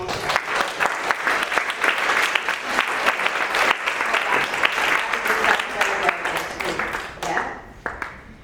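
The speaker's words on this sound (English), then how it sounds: "Everyone give her a round of applause." Audience applause at Freedom Fest during a coaching hot-seat session, a sustained wash of clapping with sharp individual claps that tapers and fades near the end, with speech mixed in.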